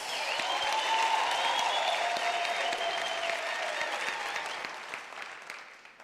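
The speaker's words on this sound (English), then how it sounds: "may we give them a round of applause" A large audience at a UNISA autumn graduation ceremony gives a long round of applause in a big hall. The steady clapping swells early and then gradually fades toward the end.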